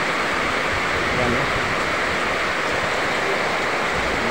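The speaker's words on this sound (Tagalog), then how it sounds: "hindi po uminto yung ulan" Heavy, unbroken rain during a major flood in barangay Cag-abaca, a dense continuous hiss pouring steadily throughout, with a voice speaking briefly over it.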